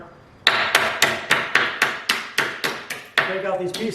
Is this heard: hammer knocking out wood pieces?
yes